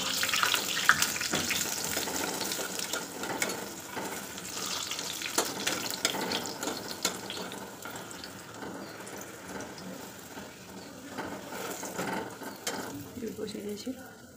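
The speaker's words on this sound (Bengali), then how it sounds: "এরকম করে ধীরে ধীরে পুরিগুলো ভেজে নিতে হবে তাড়াতাড়ি করে" Palak puri frying in hot oil in a home kitchen, a steady soft sizzle and crackle with occasional clinks and stirring, fairly faint and continuous throughout.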